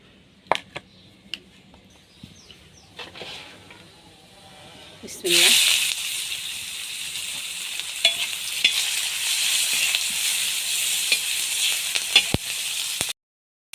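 Onions and chilies dropped into hot oil left over from frying pointed gourd, a sudden loud sizzle that settles into a steady close hiss with scattered stirring clinks and pops, a few soft sounds before it.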